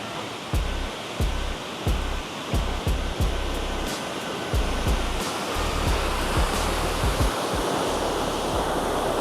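A Swiss waterfall in a lush, mossy forest near Lake Brienz gives a steady, loud rush of falling water. Footsteps tap faintly and regularly over the constant roar.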